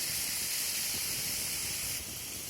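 Spices frying in oil for a pointed gourd (kakrol) curry, a steady close hiss and sizzle at constant level that drops slightly near the end, with no talking.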